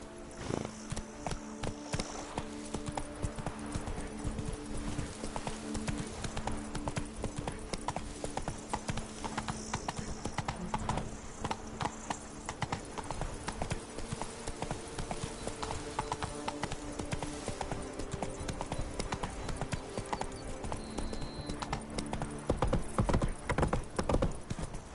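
A horse gallops in The Witcher 3: Blood and Wine, fast dense hoofbeats pounding continuously and close for the whole stretch, over a sustained musical backdrop, with a short whinny-like cry and heavier thuds near the end.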